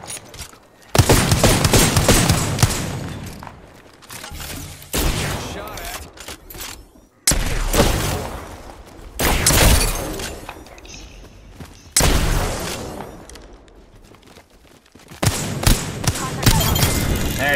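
Wingman pistol hip fire in the Apex Legends video game: bursts of loud, close gunfire come in several separated clusters, interleaved with game effects and voices talking.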